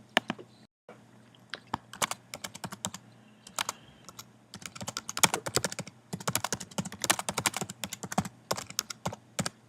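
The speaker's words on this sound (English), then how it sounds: "Type in a suitable comment and press Save." Close, dry clatter of typing on a computer keyboard, starting with scattered keystrokes and building into quick bursts of rapid clicks, with no voices.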